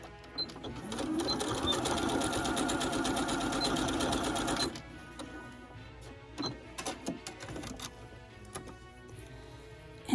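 A sewing machine stitches fabric for a scrunchie in a fast steady whirring burst of about five seconds. Scattered clicks and rustles of handling the fabric follow, quiet and close.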